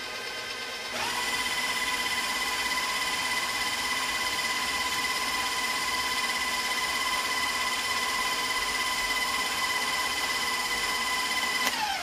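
A KitchenAid stand mixer starts up after a second of quiet and runs steadily, churning cookie dough with a constant whirring motor whine and even mechanical drone that stays close and loud until it stops at the very end, with no talking.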